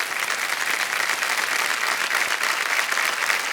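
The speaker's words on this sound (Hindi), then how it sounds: "तालियां बजते रहे विमल जी के लिए।" Steady, dense studio audience applause on a Hindi TV quiz show set for Kaun Banega Crorepati, loud and continuous from start to finish with no voices over it.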